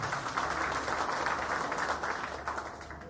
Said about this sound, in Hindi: मैं उनके लिए भी जोरदार तालियां चाहूंगा।